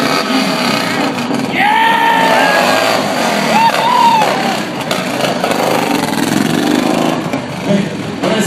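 A street bike revs at a motorcycle stunt show, its engine rising and falling in sharp throttle blips over a loud crowd-and-announcer din, with talk and cheering mixed throughout.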